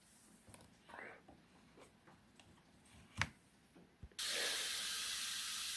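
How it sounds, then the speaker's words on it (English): Compressed air blasts against the air filter of a Stihl MS260 chainsaw, a sudden loud steady hiss starting near the end after a few light clicks and handling taps. "I've just blew off my air filter with compressed air."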